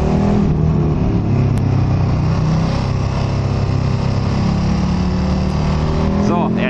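Motorcycle engine droning steadily at close range as the rider takes a curve on a road, a continuous loud roar with a slight rise in pitch near the end.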